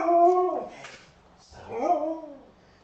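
Husky dogs whimpering and howling nearby, two drawn-out rising and falling howl-whines separated by a short pause, with a voice briefly heard in between.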